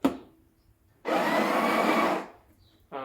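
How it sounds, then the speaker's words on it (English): The built-in grinder of a Breville Barista Express BES870 grinds coffee beans in one loud, steady whir lasting about a second and a half, framed by short quiet gaps and small clicks. "You can top off the coffee grounds by holding the grind button."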